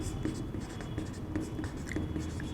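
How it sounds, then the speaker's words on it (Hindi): Writing a definition on a classroom board for a physics lesson on circular motion, a continuous scratchy stroking with small taps, close and moderately loud with no talk. "तो इसका डिफिनेशन छोटा सा लिख लेते हैं।"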